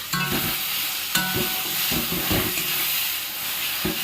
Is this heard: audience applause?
no